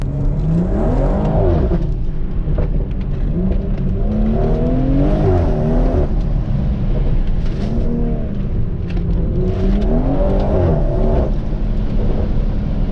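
A BMW M240i with a limited-slip differential driven hard on back roads, its engine revving up and down in repeated loud surges and shifts, heard from close by with no talking.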